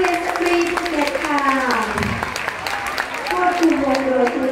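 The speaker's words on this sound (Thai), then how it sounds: "โรงเรียนสตรีภูเก็ตขอเสียงปรบมือให้กับวงโยธวาทิโรงเรียนสตรีภูเก็ตค่ะ" Crowd applause at a vocational school games event in Phuket, for the Satri Phuket School marching band, a steady wash of clapping from a large audience under a loud female announcer's voice.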